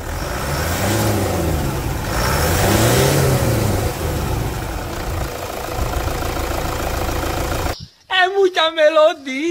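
A 2010 Toyota SW4 diesel engine, its tank fouled with bad diesel sludge, revving hard and rising and falling for several seconds, loud and close, before it cuts off and someone speaks in the quiet that follows.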